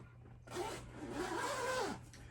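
A zipper on an RV bench cushion from a HappiJac bed lift system is pulled open in one steady, fairly close stroke lasting about a second and a half, over quiet room hum.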